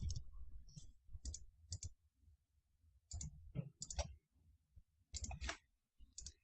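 Computer mouse buttons click softly in quick pairs, double-clicking several times at close range, with quiet pauses between the bursts.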